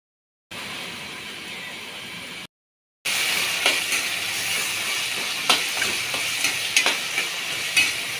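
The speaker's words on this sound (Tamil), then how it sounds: "கிண்டி விட்டுக்குவோம்." Chicken curry in a clay pot, an even hissing sizzle close by, broken by short gaps of silence, with intermittent scraping clicks from stirring.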